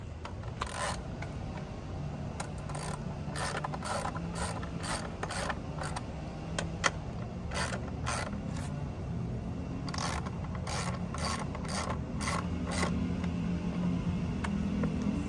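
Ratchet wrench tightening the bolts on a Can-Am Ryker 900 Sport wheel, a steady run of rapid clicking bursts with short pauses between pulls, close and fairly loud over a low background hum.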